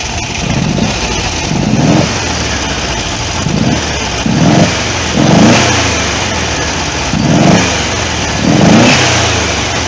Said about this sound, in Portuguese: Vou dar uma aceleradinha para vocês verem